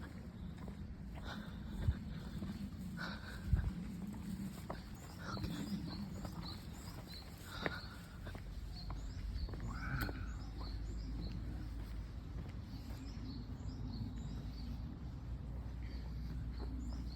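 Small birds chirp faintly and intermittently outdoors in Japan, with scattered short calls sitting under a steady wash of wind and low road or engine rumble.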